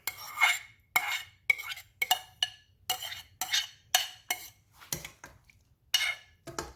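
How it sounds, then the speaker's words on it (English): A spoon stirs fish congee in a pot, with repeated clinking scrapes against the metal sides in an uneven rhythm of about a dozen strokes, close and fairly quiet over a low background hum. "Give it a good stir."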